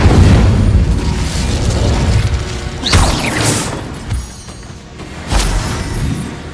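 In the Hogwarts Legacy video game, the Incendio fire spell goes off as a loud, roaring whoosh of flame. Sharp bursts and booming impacts flare throughout, dense and sustained from start to finish.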